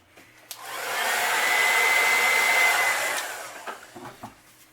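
A hair dryer or heat gun heats fresh paint, a steady airy whir that swells up, holds for about two seconds and then fades, followed by a few faint clicks.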